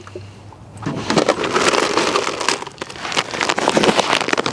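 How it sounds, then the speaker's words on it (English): Water poured over a partly covered layer of freshly harvested horseradish roots in a storage container, a steady splashing and trickling pour that starts after a quiet second and continues close by without talk. "add some water,"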